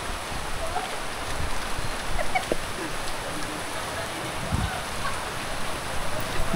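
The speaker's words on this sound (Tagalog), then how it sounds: "Ang lakas ng ulan eh." Heavy rain pours down in a steady, dense hiss that holds at an even level throughout, with no clear voices over it.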